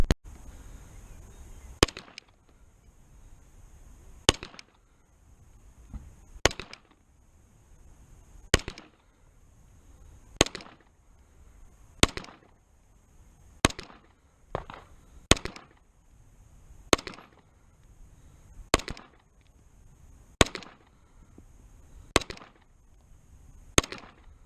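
Pistol shots from a double action/single action handgun fired on a range, about fourteen sharp, loud cracks spaced a second or two apart with a brief pause mid-string.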